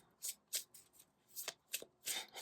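Tarot cards being shuffled by hand come through as a string of crisp, close riffling bursts, about eight quick flicks with short pauses between them and no voices.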